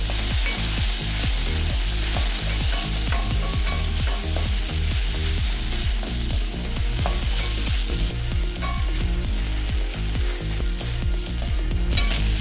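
Ginger paste with bay leaf and whole cumin being stirred as it fries in a pan: a loud, continuous sizzle with rapid, rhythmic scraping strokes of the spoon running throughout.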